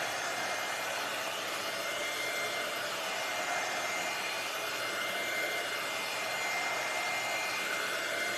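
Heat tool blowing hot air on damp Osnaburg fabric, a loud, steady, close roar of rushing air that runs unbroken throughout.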